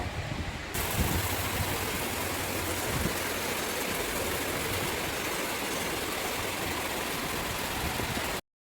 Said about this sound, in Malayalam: ഞാനിവിടെ ഒന്ന് പതുക്കെ നടന്നെത്തിയതും ഫുൾ മഴ.